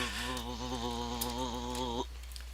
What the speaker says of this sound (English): it's like those fucking bees IRL or flies that are really buzz right freaking close to your face